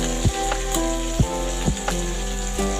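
Curry leaves, green chili and crushed garlic sizzle loudly in hot oil, a constant hiss punctuated by about five sharp pops and spatters.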